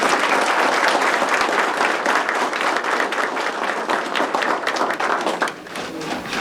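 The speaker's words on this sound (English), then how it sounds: "one more round of applause for our Skills USA" Sustained, loud applause fills a school board meeting room as the audience claps for Skills USA medalists, a steady dense wash of hands that eases slightly near the end.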